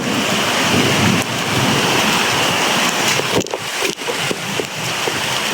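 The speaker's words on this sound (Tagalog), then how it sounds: "Grabe yung ulan mga tol." Heavy rain pours down in a dense, loud, unbroken roar, with a couple of short sharp knocks partway through.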